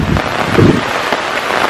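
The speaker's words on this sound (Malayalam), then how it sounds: "ഗംഭീരമായ മഴ." Heavy rain falling on Rayiranellur hill in misty weather, a steady broadband downpour with a few low rumbling gusts, close and fairly loud throughout.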